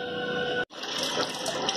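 Water from a tap runs through an attached hose into a washing machine drum, a steady close rush with a brief break partway through.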